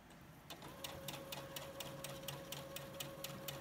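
Sewing machine running a straight stitch through fabric for Mickey pumpkin ears, a steady rapid mechanical ticking with a constant motor hum, heard alone at moderate, close range.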